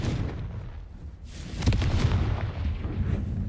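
A Confringo spell explosion in Hogwarts Legacy sounds as a sudden loud blast, booming and rumbling, that breaks over a low ambient bed and then trails into lingering crackle and rumble.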